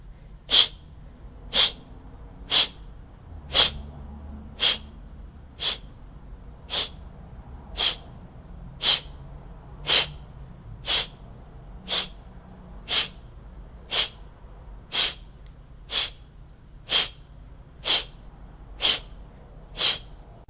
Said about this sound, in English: He will breathe out, and then you will inhale and do another one.